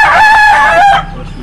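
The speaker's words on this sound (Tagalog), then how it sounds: "napakalaking manok, napakagandang manok nito mga kamistiso" A large rooster crows at a rooftop game farm, a single loud, close cock-a-doodle-doo that ends abruptly and leaves quiet background noise.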